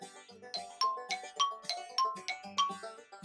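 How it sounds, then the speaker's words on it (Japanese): An ancient bronze dotaku bell is struck about nine times in a loose rhythm, each clear metallic ding ringing out and decaying before the next. "これは銅鐸です。"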